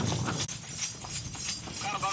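Horse-drawn taxi on an island carrying travellers with luggage, hooves clip-clopping in an uneven rhythm close by, mixed with background chatter and movement.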